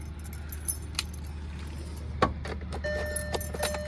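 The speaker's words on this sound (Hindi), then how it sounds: "चाबी लगा लेते हैं एक बार।" Car keys jangle in short metallic bursts as the key goes into the ignition of a Hyundai Grand i10 Nios, heard close up inside the cabin over a low steady hum, with a faint tone near the end.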